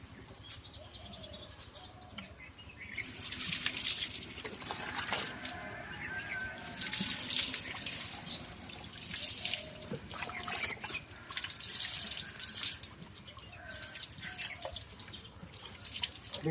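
Water running and dripping as an elderly man's hands are washed, a steady wash of splashing and trickling that grows busier after the first few seconds, with a voice speaking over it.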